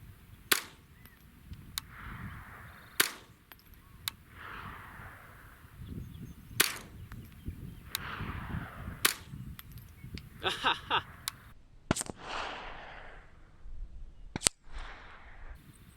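Sharp, distinct gunshots from a Ruger 10/22 rifle firing at a bowling pin outdoors, about ten spaced reports over sixteen seconds, with a couple of quicker pairs near the end and low background rumble between them.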